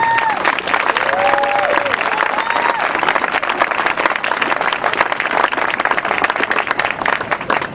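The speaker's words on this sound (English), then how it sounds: "I would ask you to applaud Gloria for all of her work for the city of Camden" An audience gives sustained, loud applause at a Rutgers-Camden opening event in honour of Gloria's work for the city of Camden, a dense even roar of clapping that fills the room from start to finish, with scattered cheers early on.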